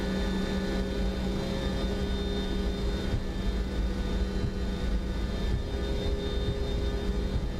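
A FlightSim Studio 727-200F jet powers up for takeoff in MSFS 2024, giving a steady, loud engine roar with a constant whine layered on top that carries unbroken for several seconds.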